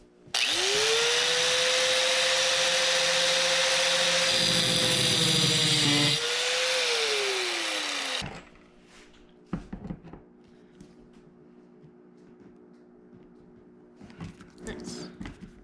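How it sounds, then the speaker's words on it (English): A power tool cuts a slot into a stuck screw head on a Ramcharger gas tank sending unit, a loud steady whine for about eight seconds, then stopping; afterward come scattered clicks and handling noises with some talk. "So all we're going to do is to cut a groove in it that will work with a flat blade screwdriver."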